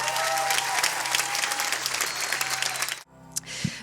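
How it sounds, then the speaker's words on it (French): A church congregation applauds during a baptism service, dense and fairly close, until the clapping cuts off abruptly near the end and leaves a brief quieter stretch. "on peut tous l'applaudir."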